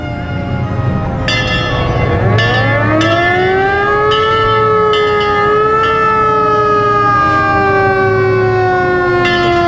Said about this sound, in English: That's the old Monroe Fire Truck.